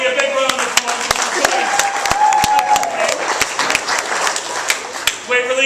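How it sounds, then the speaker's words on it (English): An audience at a children's magic show claps loudly and continuously for a young girl volunteer, and a voice speaks through the clapping. "Folks, give this young lady a big round of applause."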